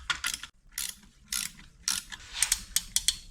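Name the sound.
brake caliper compression tool ratcheting on car part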